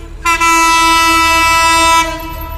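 A loud, sustained locomotive horn blast at a railway level crossing in Uttar Azampur, Dhaka, rich and steady, starts abruptly and holds for nearly two seconds before cutting off, leaving low rumble behind.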